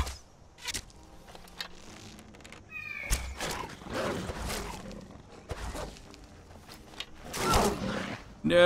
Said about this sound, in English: The saber cat, boys. The saber cat.